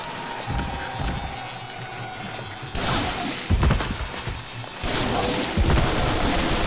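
Repeated shotgun blasts from the zombie-fighting video game Onechanbara Bikini Samurai Squad, loud percussive bursts with crashing impacts, firing in irregular clusters amid busy game noise.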